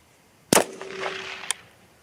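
A .243 Winchester rifle fires a Nosler Partition bullet at a shooting range. One loud, close report rings briefly, and a second sharp crack follows about a second later.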